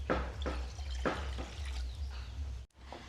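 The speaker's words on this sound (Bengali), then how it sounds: "উনানের মধ্যে একটা কড়া বসিয়ে দেব কড়ার মধ্যে বেশ কিছুটা জল দিয়ে দেবো" Water poured into a wok set on a lit stove at the start of a home-style Bengali cooking session, with soft splashing and dribbling bursts over a steady low hum, close and fairly faint, no voices.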